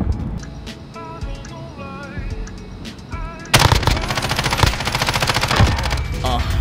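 Rapid bursts of Ram-7 rifle fire from Modern Warfare Search and Destroy ring out loud and close in the second half, following quieter game ambience.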